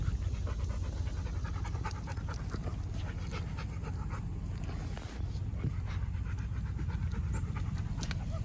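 A dog pants rapidly and steadily at close range, a fast, breathy rhythm that continues throughout with a brief catch partway through.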